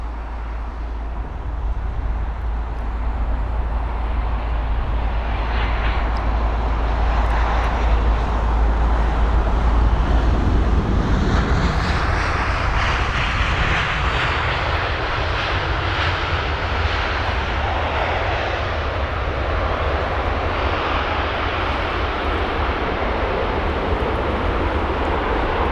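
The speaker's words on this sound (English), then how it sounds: "This is Air Serbia, and the 319 from Belgrade has a 2 hour and 26-minute long journey." An Air Serbia Airbus A319 from Belgrade at Heathrow gives a long, steady jet engine roar over a heavy low rumble. It stays loud throughout, with a surge around the middle.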